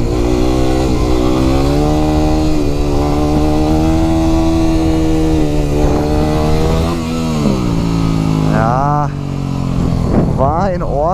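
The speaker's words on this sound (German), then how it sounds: "Also, ich fahre einen zweiten Gang, Finger auf der Kupplung," A Yamaha WR250 motorcycle engine drones loudly in second gear under a rider's talk, holding steady revs, then dropping and surging sharply as he pops a wheelie.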